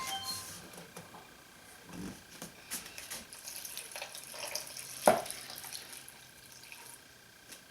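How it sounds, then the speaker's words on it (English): One quart of water is poured into a pot for dandelion syrup, a soft, uneven splashing trickle with small clinks and one sharp knock partway through. "Into the pot, we're going to add our 1 quart of water."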